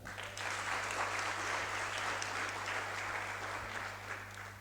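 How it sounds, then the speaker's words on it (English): Sustained audience applause for the only woman on an organizing committee at an international research conference in Hargeisa, a dense, even roar of many clapping hands starting suddenly and holding steady over a low electrical hum. "I want you to give her a big special clap."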